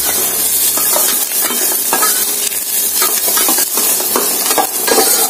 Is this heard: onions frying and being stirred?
yes